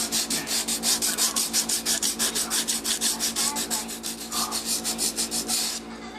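Sanding block scuffing the road surface on a model railroad layout, a steady run of close, rhythmic back-and-forth rasping strokes, about five per second, stopping just before the end.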